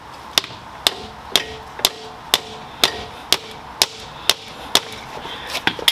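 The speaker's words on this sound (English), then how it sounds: "Now, because of the type of shaft this is, I'm using a rubber mallet" A rubber mallet taps a 2003–2010 Saab 9-3 mid shaft during bearing replacement: about a dozen sharp, evenly spaced knocks, close and clear, with no talk.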